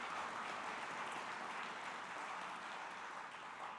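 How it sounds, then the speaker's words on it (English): An audience at a community service awards event applauds musical performers, a steady, distant wash of clapping heard at low volume throughout. "Please give them a round of applause for their musical talents."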